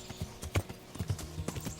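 Horse hooves pounding at a gallop in the video game Kingdom Come Deliverance, a fast, steady rhythm of clip-clop beats with faint background noise.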